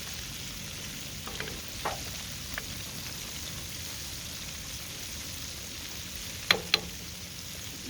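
Soft, continuous sizzling of shrimp deep frying in hot oil, with a few faint clicks and two sharp taps near the end.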